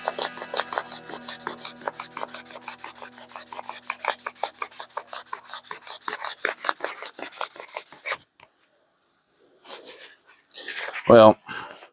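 Rhythmic back-and-forth strokes of 600 grit sandpaper rasp steadily across a vintage brass hammer for about eight seconds, close and even, then stop, followed by a few scattered sounds.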